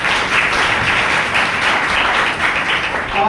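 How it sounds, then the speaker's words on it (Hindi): Loud, dense audience applause fills a training-event hall, a steady wall of clapping from many hands that holds evenly from start to finish with no talk over it. "एक बार जोरदार तालियां होनी चाहिए."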